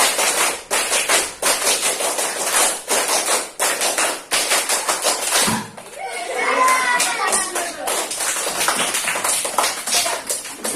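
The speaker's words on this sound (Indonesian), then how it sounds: "Tepuk pramuka 2 kali." A classroom of children does an Indonesian scout clap pattern, with loud sharp hand claps in quick rhythmic groups. Children's voices break in briefly midway before the clapping resumes.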